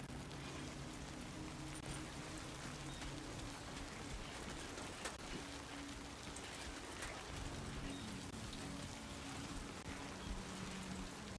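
Steady rain from a video game, Death Stranding 2, hissing as a dense, even wash over the whole stretch with no talk, its level holding constant from start to finish.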